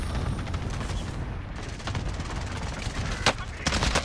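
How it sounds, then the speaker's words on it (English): Cluster strike airstrike in the Warzone video game, a steady rumble of overlapping blasts and gunfire-like cracks, with a sharper burst near the end, running under faint game chatter. "Cluster strike away."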